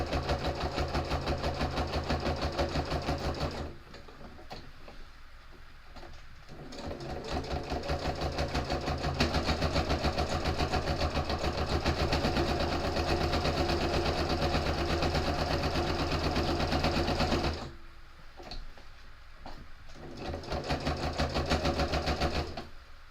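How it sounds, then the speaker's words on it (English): A sewing machine stitches at a 3mm stitch length with a rapid, even mechanical chatter. It runs in long bursts with two brief pauses where the motor slows, close and steady, and no one speaks. "I'm sewing around using a 3mm stitch length"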